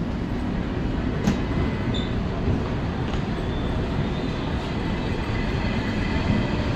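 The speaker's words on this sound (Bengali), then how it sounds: "আল্লাহ, ট্রেন চলে আসছে।" KTX bullet train arriving at a platform for the Seoul to Busan service, a steady loud rumble of rolling rail noise filling the whole stretch with faint high squeals and clicks, no talk.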